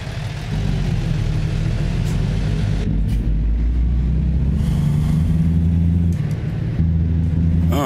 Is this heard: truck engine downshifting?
yes